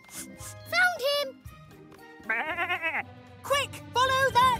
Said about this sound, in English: Quick, follow that sheep.